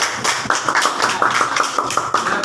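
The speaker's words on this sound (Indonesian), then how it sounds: "Kasih tepuk tangan untuk kelompok 1." Clapping from a group in a classroom or gathering, a close burst of quick, uneven hand claps holding steady for a couple of seconds with no talk over it.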